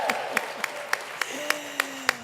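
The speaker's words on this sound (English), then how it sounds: "And the crowd goes wild," Crowd applauding at a National Education Association convention: a run of sharp, evenly spaced claps, slightly distant, with a steady tone lingering underneath.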